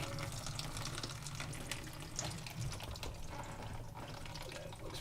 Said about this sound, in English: see the water coming up there